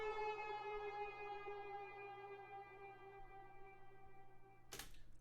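A pitched-up ambient shot sound effect: a quiet, sustained tonal wash that slowly fades, ending with a short noisy burst near the end, alone without voices.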